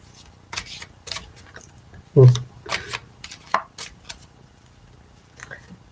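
Tarot cards being shuffled in short, crisp riffles and slaps at close range, with a voice talking over the shuffling.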